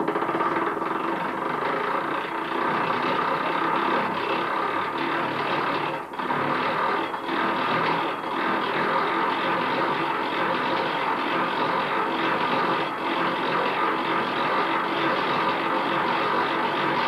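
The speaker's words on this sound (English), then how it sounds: "Then the comb is spun in a centrifuge to extract the honey." A honey extractor centrifuge spins honeycomb in a steady continuous mechanical whir and rattle, loud and unbroken, with no voices.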